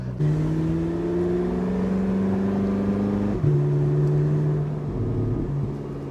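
A Porsche 918 Spyder accelerates at partial throttle, its engine note climbing steadily with rising whine and a brief dip at a gear change before pulling again, heard from inside the car.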